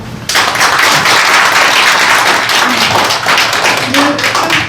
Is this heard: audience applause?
yes